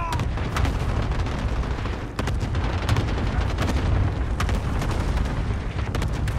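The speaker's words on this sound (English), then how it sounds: "Enemy cluster strike incoming!" A video game cluster strike lands as a barrage of rumbling explosions with sharp bursts of gunfire, loud and continuous over a heavy low boom throughout.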